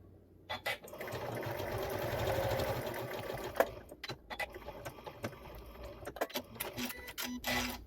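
Sewing machine stitching fabric with reduced presser foot pressure and a lengthened 3 mm stitch, a close mechanical whir that runs for a few seconds, then short bursts and taps of machine handling.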